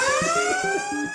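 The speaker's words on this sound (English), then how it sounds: "Lunk alarm, which can be triggered by Planet Fitness staff anytime they see a member working out too intensely." A Planet Fitness lunk alarm blares loudly, a piercing electronic siren tone with a rapid pulsing warble beneath it, sounding continuously throughout.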